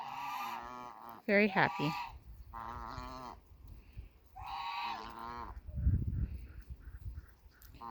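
Geese honking on a sunny farm slope, with several loud, close bursts of calls spread across the stretch and a brief spoken comment between them.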